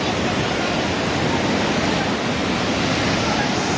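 Floodwater rushes in Nepal with a dense, unbroken roar, loud and steady from start to finish with no pauses.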